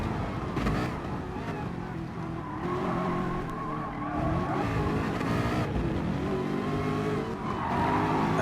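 Race cars in a sim racing game roar along with engine drone, tire squeal and skidding, steady and fairly loud throughout, while a commentator talks over the action.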